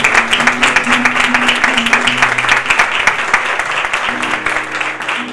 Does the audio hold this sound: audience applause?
yes